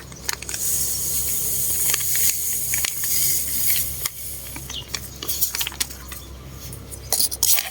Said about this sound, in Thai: แล้วก็คนเลยนะคะ